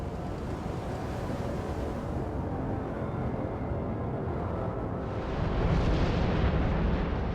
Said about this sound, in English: one of the greatest volcanic eruptions ever recorded laid waste to the Indonesian island of Krakatoa